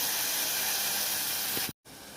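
Mushroom curry ingredients sizzle in a frying pan with a steady, loud hiss that runs continuously, broken by a brief silent gap near the end before resuming.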